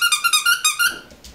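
A small squeaky sun-shaped toy squeaks six times in a quick, even rhythm, loud and close, followed by faint rustling.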